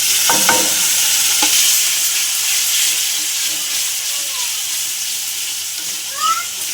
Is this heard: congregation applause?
no